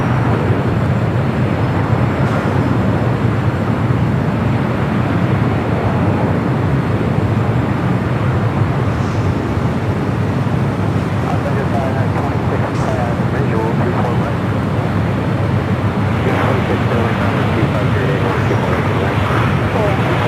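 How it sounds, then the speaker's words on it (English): A Spirit Airlines A320 arriving on runway 25 left at LAX gives a broad, steady jet roar blended with wind buffeting on the microphone, loud and unbroken for the whole stretch, with a voice speaking over it. "Spirit flight 1258 coming in from Houston, Texas, an A320"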